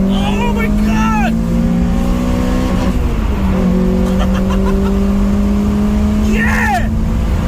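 A Honda Prelude with a 2.2 VTEC engine, a JDM car with a misfire, revs loudly and steadily up close, the engine note climbing and dipping as people shout excitedly over it.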